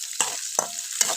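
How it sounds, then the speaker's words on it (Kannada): Green chillies frying with garlic, cumin and mustard seeds in hot oil for an okra stir-fry tempering, three quick stirring scrapes over a constant close sizzle. "ಹಸಿಮೆಣಸಿನ್ಕಾಯಿ ಚೆನ್ನಾಗಿ ಫ್ರೈ ಮಾಡ್ಕೋಬೇಕು."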